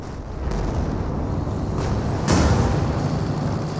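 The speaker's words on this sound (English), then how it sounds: "Got a strafing run by the Wehrmacht player." Strafing-run explosions in Company of Heroes 2, a rumbling barrage of booms with a sharper blast near the middle, loud and continuous over dense battle noise, no talk.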